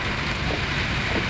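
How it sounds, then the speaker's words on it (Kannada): Heavy rain pours over Bengaluru streets in a dense, continuous broadband hiss that stays steady and loud throughout, with no voices over it. "ಜಯನಗರ ಸೇರಿದಂತೆ ಹಲವು ಕಡೆ ಮಳೆ ಆರ್ಭಟ ಜೋರಾಗಿದೆ."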